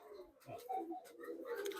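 Madrasi pigeons in a loft make a short burst of soft, throaty cooing, fairly close but quiet, lasting under two seconds.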